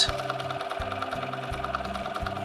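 A sewing machine stitches a ribbon candy quilting motif, its motor running in a steady fast rhythm with repeated short bursts and brief pauses, close and alone.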